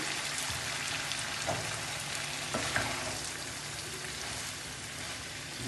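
Liver fry for a Kerala non-veg dish sizzles steadily in a pan, a dense crackling hiss with a few louder pops and stirring scrapes, close and continuous.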